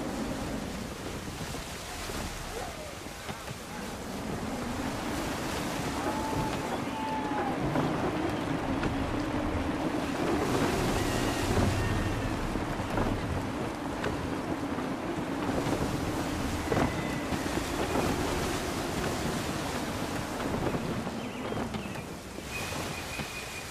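Wind and ocean waves rush steadily around a sailing ship at sea in the Assassin's Creed III game, a continuous broad roar with surging swells and gusts rising and falling throughout, no voices over it.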